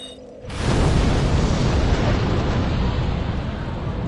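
The Fire Tempest pyromancy spell in Dark Souls, a sudden loud burst that swells into a sustained roaring, crackling rumble of flame after a quiet start.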